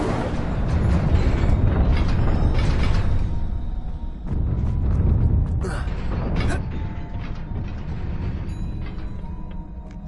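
Incendio fire spells cast in the Hogwarts Legacy video game, heavy rumbling bursts of flame with booming surges and crackling pops that continue almost without pause, mixed with game sounds and a voice.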